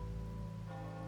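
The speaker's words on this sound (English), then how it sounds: "Rain's back." Steady rain falling in a video game, a soft constant hiss under sustained musical tones for a brief moment.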